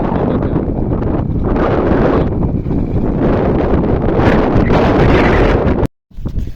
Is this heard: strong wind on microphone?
yes